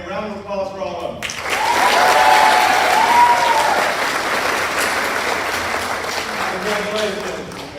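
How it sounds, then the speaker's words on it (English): After a brief spoken announcement, an audience at a high school ROTC awards ceremony breaks into sustained, loud applause that holds steady for several seconds with scattered cheers, then a voice returns near the end. "Can I get a round of applause for all of them?"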